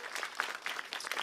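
Brief burst of audience applause at a stand-up comedy show, a steady patter of many hands heard close and fairly loud for just over a second.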